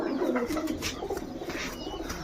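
A red pigeon gives a soft, close coo over quiet background, one brief low call with no talking.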